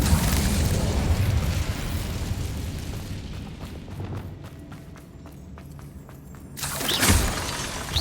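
An Incendio fire spell blast from the video game Hogwarts Legacy, a loud fiery burst followed by crackling and scattered debris pops, then a second whooshing eruption near the end.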